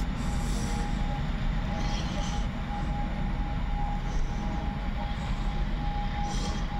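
Passenger train at Łowicz Główny station in Poland, a steady low rumble of a moving train heard at moderate distance, with a public-address voice over the station ambience.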